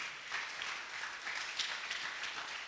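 Church congregation applauding in a steady patter of many hands, a quiet, even wash of clapping with no pause that stays slightly distant.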